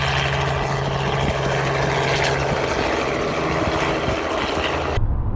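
A crop-spraying helicopter drones steadily over a soybean field, its rotor and engine a loud continuous roar with a low tonal hum, cutting off abruptly at the end.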